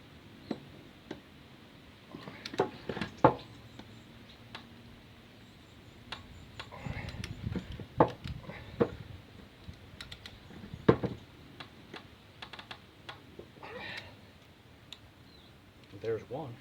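A long 1/2-inch wrench torques down a blade bolt on a John Deere Z225/Z425 zero-turn mower, with a wood block holding the blade. Close, fairly quiet metallic clicks and knocks come in scattered bursts over a low background.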